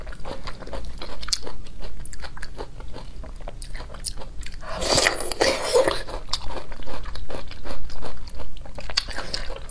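Crunchy brown sugar pieces bitten and chewed close to the mic, with repeated crisp crunches and a louder burst of biting in the middle, no talking.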